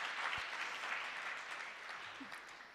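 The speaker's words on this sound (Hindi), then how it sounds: "तालियों से दीदी का भी स्वागत करें" A crowd claps steadily to welcome someone speaker at a Hindi gurukul gathering, a continuous moderate wash of applause that eases slightly toward the end.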